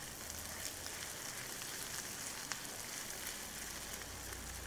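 Garlic sizzling in a pan with softened onion, a steady quiet crackle and hiss of frying oil throughout, with no talk over it.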